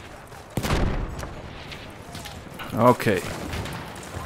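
Enemy gunfire in the World War I shooter Battlefield 1, a multiplayer match on PS4 Pro, bursts of shots and rattle under excited talk, with a louder volley near the end.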